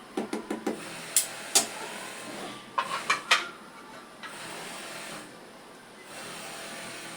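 A lid goes onto a cooking pot of potatoes simmering for an egg and potato curry, giving a few close metallic clinks and clatters, then a couple more knocks, with a quiet steady hiss behind.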